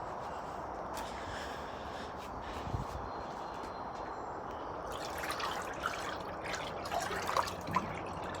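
Soap is stirred into a container of water holding mosquito larvae: faint, soft sloshing and trickling, with quiet splashes and drips growing more noticeable toward the end, no voices present.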